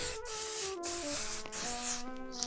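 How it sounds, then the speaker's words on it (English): Several short hissing sprays from a hairspray can, close up, in quick bursts separated by brief pauses, over a faint steady tone. "I'm going to spray it a little bit with hairspray"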